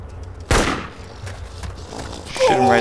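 Gunfire in the video game DayZ: one sharp close shot followed by quieter shuffling, then another burst near the end, with a voice briefly audible.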